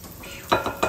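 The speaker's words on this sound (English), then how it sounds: "I'm going to stir it all up, try to get that sugar broke down just a little bit." Sugar water being stirred in a container for a wax moth trap, a continuous wet swishing with a few louder scraping strokes near the end, close up.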